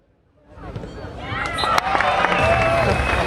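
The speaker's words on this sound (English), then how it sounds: "Please clap your hands and make some noise as we bring these two teams out" At a beach volleyball match at the Asian Beach Volleyball Championships, a crowd claps and cheers as the teams come out. The noise swells from near silence into a loud, sustained roar with music and an announcer's voice over it.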